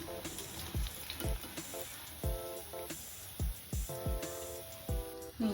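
Black-eyed pea and spinach vadas deep-fry in hot oil with a steady hiss, broken by repeated close clattering scrapes and taps of a metal ladle against the pan.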